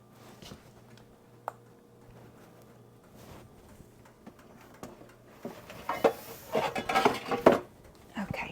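A lid is pulled from among pots and pans in a home kitchen, quiet shuffling at first, then a cluster of bright metallic clanks and rattles near the end, close by.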